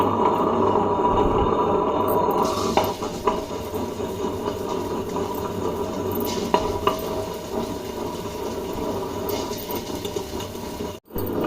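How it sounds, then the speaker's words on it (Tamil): A wet grinder churns soaked urad dal in a continuous low mechanical whir with faint scraping and knocking, steady and close throughout, ending in a brief dropout. "இப்போ வந்து இதை நம்ம கிரைண்டரில் போட்டு அரைச்சிக்கலாம்"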